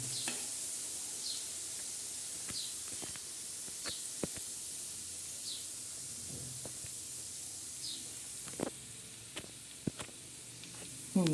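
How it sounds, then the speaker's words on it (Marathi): Pickle spice masala fries and is stirred in oil, giving a steady low sizzle with occasional soft scrapes and clicks from the spoon, faint and close, with no talk. "आता हे सगळं तेल टाकलं तेलामध्ये असं सर्व परतून घ्यायचं"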